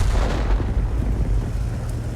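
A heavy tank cannon in a World of Tanks-style game fires, BZ-176 in the fight, giving a dense low rumbling boom that lingers and rolls across the whole moment without voices.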